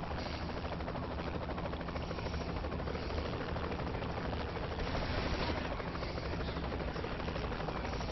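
A helicopter's rotor in the video game Saints Row: The Third thrums steadily throughout, a dense continuous whir with no voices over it.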